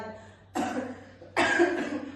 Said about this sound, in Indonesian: Sampai saya batuk.